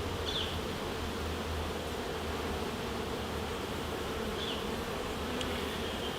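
Honey bees on a hive frame from a gentle colony make a soft continuous buzzing hum close by, with no talking.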